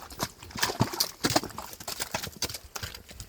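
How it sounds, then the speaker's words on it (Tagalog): A horse walks uphill on the Sta. Cruz trail of Mt. Apo, its hooves clip-clopping in an irregular close rhythm of sharp knocks on rocky ground. "Tibay talaga ng kabayo."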